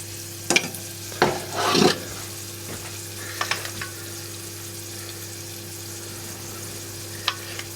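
Mushrooms for a mushroom and Camembert quiche go into a pan: a few short bursts of stirring and soft sizzle, with quiet gaps between and one last small scrape near the end.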